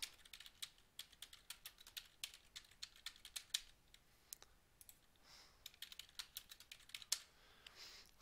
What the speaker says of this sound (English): Up here I'm going to type in my search terms.